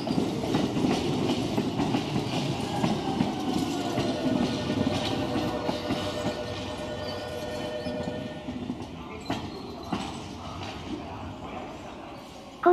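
A Keio Line 7000 series train rolls steadily along the rails from Keio-Hachiōji toward Kitano, with a continuous rumble and faint rhythmic clacking of wheels over joints.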